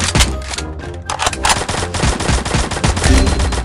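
Video game gunfire, including shotgun fire, as dense, loud, close shots crackle almost continuously in rapid automatic bursts with no pause.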